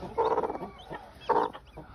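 A broody turkey hen clucks softly and close by in short bursts, with two distinct clucking phrases and no other sound around them.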